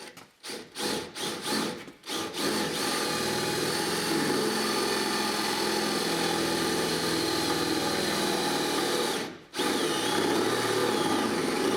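A power drill with a 29/64 bit bores a hole for strobe light wiring on a car, starting with a few short stuttering pulses and then a long, loud, steady grinding run that drops out briefly near the end.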